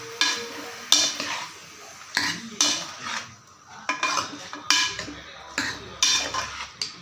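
A spoon scrapes and clanks around a cooking pot of country chicken curry in repeated strokes, with a soft sizzle underneath.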